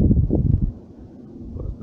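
Wind gusting around a parked campervan at a weekend campsite near Castleton, a low rumbling buffet on the microphone that swells and eases, steady and fairly close, with no talking.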